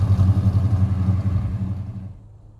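A 1968 Plymouth Road Runner with a 450 hp V8 and manual gearbox pulling away: a deep, pulsing low rumble from close by that fades out over a couple of seconds, with no talking.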